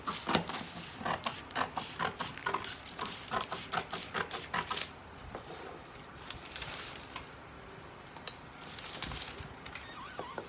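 Scissors cut a paper bodice pattern in quick, rhythmic snips close up. The snipping is brisk for the first half, then turns into slower, scattered cuts and paper rustling.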